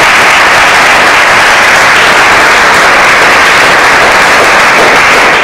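Loud, sustained audience applause at an Italian civic celebration for eighteen-year-olds on 2 June, a dense wash of clapping hands filling the whole stretch without pause.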